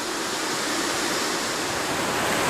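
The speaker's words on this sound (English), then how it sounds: "The river's just very shallow, like a foot or 2 most of the way." A shallow river, about a foot or two deep, flows with a steady, loud rushing wash that stays even throughout, with no voices over it.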